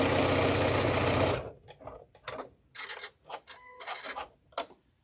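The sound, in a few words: sewing machine sewing decorative stitches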